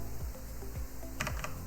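Quick, light keystrokes on a computer keyboard, entering a browser address on an Ubuntu server setup running in VirtualBox, close and clear over a steady electronic hum.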